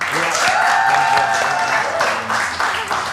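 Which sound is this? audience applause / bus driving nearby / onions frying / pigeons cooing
audience applause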